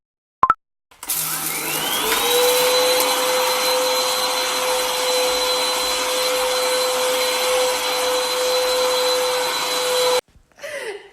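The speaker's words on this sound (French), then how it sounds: "L'aspirateur qui n'a plus de batterie" A cordless vacuum cleaner runs as its battery gives out, starting up with a rising whine and a steady loud motor roar with a high tone for about eight seconds before cutting off.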